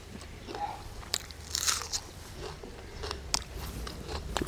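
Crunchy street-style chicken pakoda is bitten and chewed close up, giving several crisp crunches at irregular intervals over quiet background.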